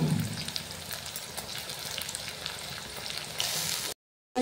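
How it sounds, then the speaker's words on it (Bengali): Chopped onion and cumin seeds fry in hot oil, a close, steady sizzle and crackle that runs on evenly before cutting off abruptly into silence. "এরপর কিছুটা জিরে ফোড়ন দিয়ে দিব, দিয়ে পেঁয়াজ কুচিটা"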